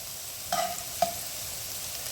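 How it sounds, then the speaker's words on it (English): Cauliflower and onions fry in a pan under a soft, even sizzle, with two quick clanks of the pan as the pieces are tossed. "I am tossing this cauliflower around, and you notice you'll see bigger chunks, which are those onions that are cooking"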